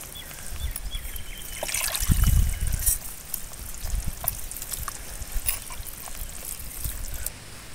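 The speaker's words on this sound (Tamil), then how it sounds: "இப்போ கொஞ்சமாக தண்ணி ஊற்றிக்கலாம்." Water is poured into a spiced cauliflower batter for cauliflower 65, an irregular trickling and splashing that swells briefly early on, then continues in softer dribbles nearby.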